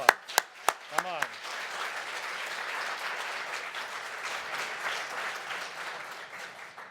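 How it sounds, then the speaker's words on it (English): A crowd at a 2021 college commencement ceremony breaks into sustained applause, a few sharp claps first, then steady clapping throughout. "I think they deserve another round of applause."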